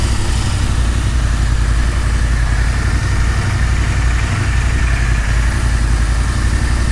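A Royal Enfield Interceptor 650 with Powerage exhausts and a K&N filter idles at a steady pace. The engine putters in an even, deep, close rumble that holds level throughout.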